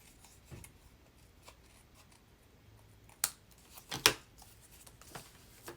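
Scissors trim the side of a tea-dyed tea bag envelope, making a few faint, close, crisp snips and paper rustles scattered over several seconds against a quiet background.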